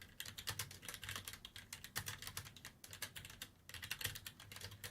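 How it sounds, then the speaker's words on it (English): Rapid typing on a computer keyboard, close and fairly quiet, keys clattering in irregular bursts with brief pauses, no voices over it. "You might hear a lot of typing."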